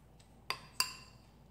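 A spoon clinks twice against a bowl while mixing a sugar sauce, two bright, ringing taps a fraction of a second apart after a faint first touch, quiet and close with no talking.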